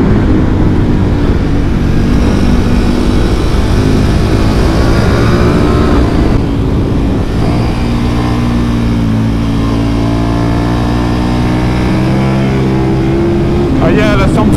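KTM Super Duke 1290 R twin-cylinder motorcycle engine revving hard in first gear and bouncing off the rev limiter, loud and close throughout, with rising and falling pitch sweeps and rider chatter over it.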